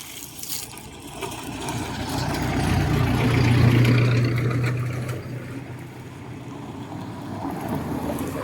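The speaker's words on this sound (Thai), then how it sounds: "เดี๋ยวให้รถผ่านไปก่อนนะครับ" A vehicle passes by on a road outdoors, its engine rumble swelling to a peak midway and then fading, heard during a roadside stop with a Honda NSR150SP motorcycle; no talking.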